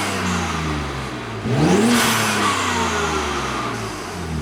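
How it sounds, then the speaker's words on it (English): A BMW G80 M3 with its intakes running, the engine idling with a steady mid-pitched drone and then surging into a sharp rev about a third of the way in before easing back to a sustained, throaty hum, close and loud. "Here's a quick sound clip of the intakes."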